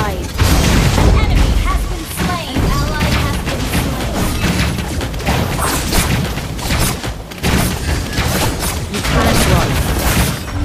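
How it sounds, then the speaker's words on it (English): A defensive turret in Mobile Legends collapses with heavy booming thuds and crashes, buried in a dense, continuous mix of game effects, music and announcer-style voices. "Our turret has been destroyed."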